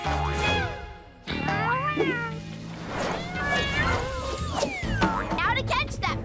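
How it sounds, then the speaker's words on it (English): Several cartoon kittens meow repeatedly in high, wavering cries, close and clear over a bed of background music, with lively overlapping mews throughout. "There are still more kittens."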